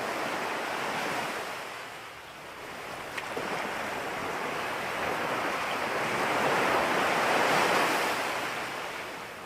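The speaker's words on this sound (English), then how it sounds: "Today, however, thanks to the strong wind, the lake is rough." Rough waves on Lake Garda at Torri del Benaco, whipped up by strong wind, make a continuous loud wash and surge of water mixed with gusty wind noise, with no voices.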